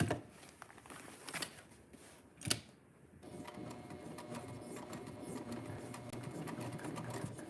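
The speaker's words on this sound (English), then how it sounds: "you're gonna sew around the outside of the box you drew" Sewing machine stitching around the outline of a drawn box on quilt fabric pieces, a steady fairly quiet mechanical whir running continuously through most of the stretch after a few brief knocks.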